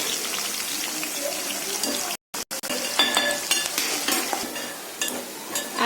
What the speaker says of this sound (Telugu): జస్ట్ మనం వేపుకుంటున్నాం ఉల్లిపాయలు